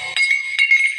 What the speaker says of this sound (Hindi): उड़ाने के चक्कर में उसके हाथ का कड़ा खोल के गिर गया